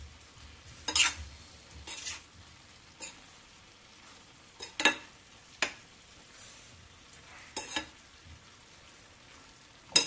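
Dried fish, brinjal and tomato curry sizzles softly in a pan while a spoon stirs it in scattered scraping strokes, with faint frying hiss between the stirs.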